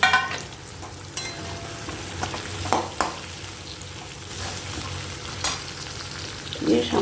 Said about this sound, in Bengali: এবার কেটে রাখা পেঁয়াজটা আমি দিয়ে দিলাম।